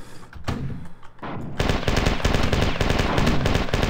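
Machine gun fire in the shooter game Marathon 2: Durandal: a few scattered shots, then a loud, dense, rapid stream of bursts that keeps going, with no talk.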